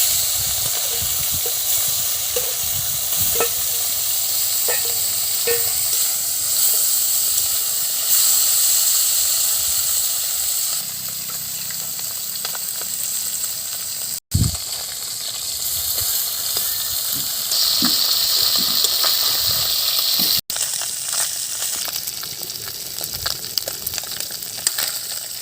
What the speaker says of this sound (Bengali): তেলটা গরম হয়ে গেছে, এখন মাছ দিয়ে দিচ্ছি